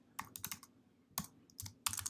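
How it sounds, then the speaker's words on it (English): Quick bursts of keystrokes on a computer keyboard, clicking in short clusters with brief pauses, close and fairly quiet. "You can just type it like I am doing here."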